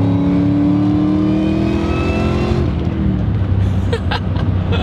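A supercharged 2003 Ford Mustang Cobra Terminator accelerates hard, its engine note climbing steadily with a loud, sustained supercharger whine before settling into a rough, throbbing rumble.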